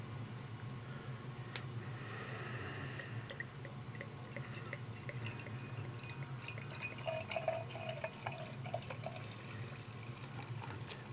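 Beer, The Bruery's Tart of Darkness, poured aggressively into a glass, giving a quiet, steady stream of splashing and fizzing liquid with faint drips, heard alone without talk.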